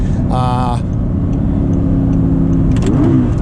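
An Audi R8 V10 with a manual gearbox revs toward 8,000 rpm in neutral: a steady, loud engine drone that climbs near the end, heard under someone talking.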